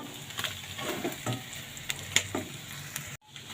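Chicken fry with gravy sizzles in a pan as cinnamon, cloves and coriander powder go in, a close steady frying hiss broken by scraping stirs and a few metallic clinks, ending abruptly.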